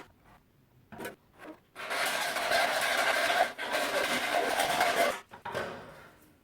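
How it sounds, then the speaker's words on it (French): A hand saw cuts through a workpiece held in a small miter box, a few short tentative strokes followed by several seconds of steady raspy sawing, then a final stroke or two. "Je prends une petite boîte à onglets pour quand même faire un trait de scie droit."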